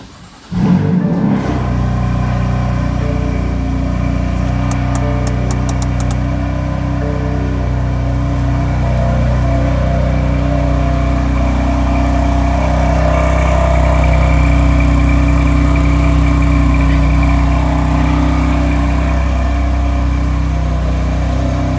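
A 2017 Java Green BMW M3 with a titanium exhaust fires up from cold with a sharp catch, then settles into a loud, steady, rumbling idle that carries on close by with no one talking.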